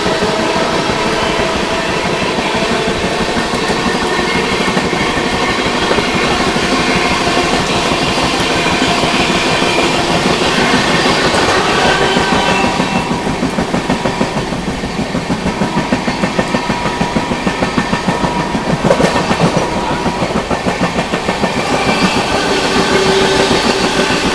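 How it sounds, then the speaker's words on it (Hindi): The Lichchavi Express, an Indian passenger train, rolls steadily while overtaking the Sangam Express, giving a continuous loud rumble with rhythmic clickety-clack of wheels over rail joints and no talk. "यहाँ पर अपनी ट्रेन ने संगम एक्सप्रेस को ओवरटेक कर दिया"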